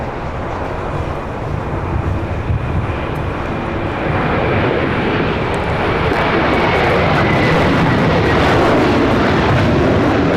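An Airbus A321 airliner at Los Angeles airport gives a steady, broadband jet roar that swells gradually louder over the span, with no voices.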